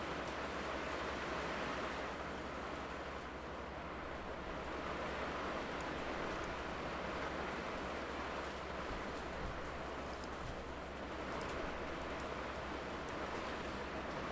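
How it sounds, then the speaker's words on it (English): Steady, dense roar of heavy rain pouring down without a break, a broad hiss that fills the whole clip. "if you hear sound in the background, it's because it's raining really hard"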